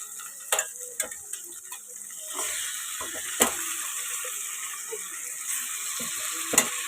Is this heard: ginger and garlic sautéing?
yes